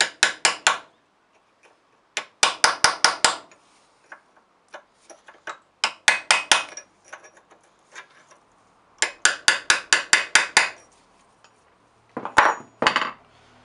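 Metal tool striking a lock tab on a Classic Mini ball joint, sharp ringing taps in quick clustered bursts of four to six hits, close and loud, with pauses between groups.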